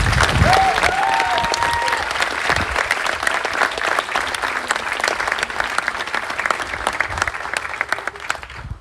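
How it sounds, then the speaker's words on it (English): Loud, sustained applause from a graduation ceremony crowd at a high school commencement, dense continuous clapping from many hands filling the whole stretch with a few faint voices mixed in. "Let's have another big round of applause for our class."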